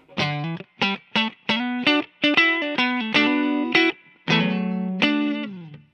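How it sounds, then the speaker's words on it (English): Electric guitar notes and chords played on the neck pickup of a 2019 Fender Rarities Stratocaster with a rosewood neck, in short phrases, warm and round with a slightly driven edge, ringing between brief pauses. "Neck pickup sounds like this."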